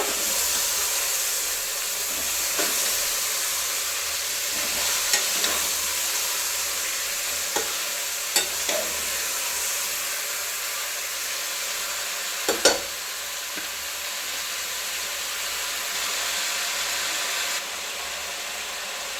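Country chicken sizzles steadily in hot tempering oil in a pan while a spatula scrapes and clatters against the metal now and then, no voices.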